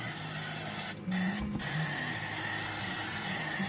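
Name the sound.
spraying rust-proof coating on car suspension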